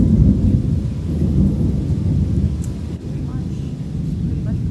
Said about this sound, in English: You got some rain.